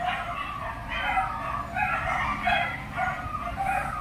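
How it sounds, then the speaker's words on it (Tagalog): Dogs howl and yip from a short distance outdoors in daytime, several wavering voices overlapping in rising and falling cries over a low steady hum. "Ibang mga aso namin dito umaalulong kahit araw, no?"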